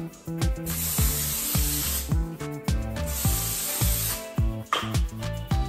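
Cooking spray hisses in several short bursts onto the surface of a Dash Multi Mini waffle maker, with a rhythmic clatter running underneath.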